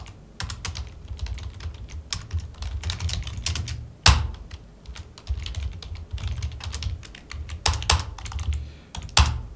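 Fingers type letters on a computer keyboard, a close run of rapid, uneven clicks and key taps in bursts with short pauses, including a few louder thumps.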